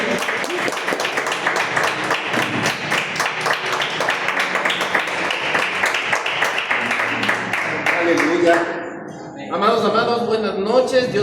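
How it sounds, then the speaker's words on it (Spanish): A church congregation applauds loudly and steadily at an evening service, dense clapping filling most of the stretch before it breaks off and a voice begins speaking near the end. "Dan una fuerte ofrenda de aplauso del que vive y reina por los siglos de los siglos."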